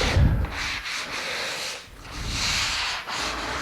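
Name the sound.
scuffing wood finish by hand on a corner cabinet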